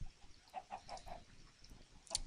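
Several short, quiet clucks from Minecraft chickens in a blocky game world, spaced irregularly with a brighter chirp near the end, all fairly faint.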